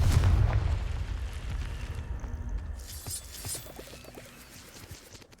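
A Confringo blasting spell goes off in the Hogwarts Legacy video game, a loud booming explosion with a rumbling burst that fades into a scattered crackling tail of debris.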